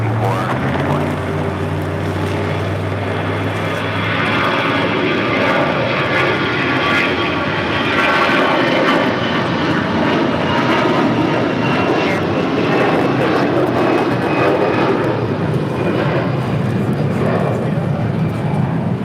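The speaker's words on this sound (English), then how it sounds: "That was American Airlines Flight 1270 heading to Phoenix, A320." An American Airlines Airbus A320 jet at LAX roars loudly and steadily, with a low engine drone at the start giving way to a broad, sustained rush and a thin whine, close and continuous.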